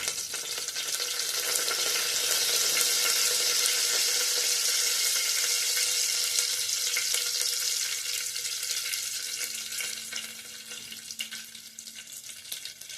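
A split green chili and curry leaves sizzling in hot oil for dal tadka, a loud steady crackling fry that gradually settles to a softer hiss.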